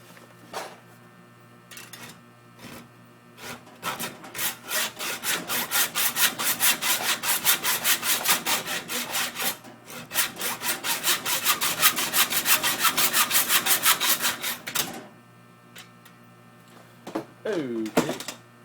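A metal rod cut by hand with a saw for a homemade frog gig, rapid rhythmic rasping strokes in two long bursts separated by a brief pause, with a few scrapes and handling noises around them.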